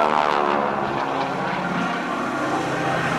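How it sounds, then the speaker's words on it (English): A loud 600-horsepower aerobatic propeller plane engine roars steadily at an airshow, its pitch and drone shifting slightly through a high-G 180-degree turn, with no voices. "That's a 600 horsepower engine pulling him through that high G 180-degree turn."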